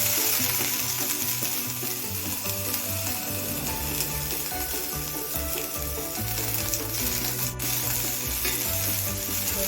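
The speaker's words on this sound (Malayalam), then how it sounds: "നാളികേരക്കൊത്തും കുറച്ച് എള്ളും നെയ്യിൽ വറുത്ത്" Steady crackling sizzle of coconut pieces and sesame seeds frying in hot ghee, continuous and close, with occasional scraping stirs.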